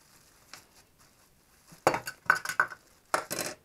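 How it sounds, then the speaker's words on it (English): A small metal pot from a camping cooking set being handled out of its box, giving several bright clinks and clanks of nesting metal pieces knocking together, close and crisp, after a quiet start with soft rustling. "a cooking set. Here's your little pot."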